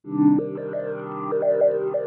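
A sustained synth tone shaped by Ableton Live 12.2's Auto Filter, with a sweeping, filtered character, its brightness stepping up and down in a rhythmic pattern; no voices.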